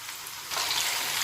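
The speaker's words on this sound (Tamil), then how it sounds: "ஆயில் நல்லா ஹீட் ஆனதுக்கப்புறம் நம்ம வெட்டி வச்சுருந்த மஷ்ரூம் சேர்த்துக்கலாம்" Cut mushrooms dropped into hot oil in a pan for a Tamil mushroom gravy, a soft background hiss jumping into a steady, louder sizzle about halfway through.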